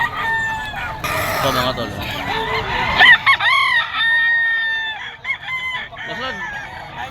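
White Kelso gamecocks crow at a busy pet market, with several loud, close, overlapping cock-a-doodle-doo calls and clucks while someone speaks briefly.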